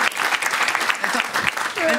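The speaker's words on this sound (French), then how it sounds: "on va applaudir la comédienne" A studio audience applauds a comedian on a French talk show. Steady clapping runs throughout the short stretch, with voices talking over it.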